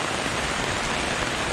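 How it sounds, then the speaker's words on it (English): Steady rain pours down at a riverside campsite in Jelebu, Malaysia, a dense, even hiss of drops close by with no other sounds. "I arrived, started raining."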